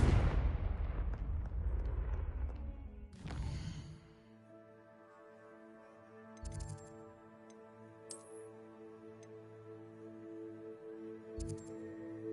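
A Confringo blasting curse in Hogwarts Legacy bursts with a loud, low blast that decays over a few seconds. A second sharp crack follows, then quieter scattered hits over a sustained musical hum.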